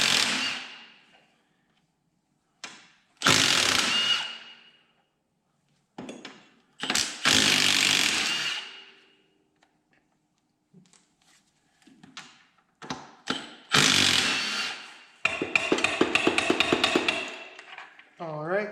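A small Milwaukee power tool, likely an impact driver, works the 14 mm bolts that hold the axle tube to the hub on a Honda Rancher ATV. It fires in several short loud bursts, with a longer rattling hammering run near the end.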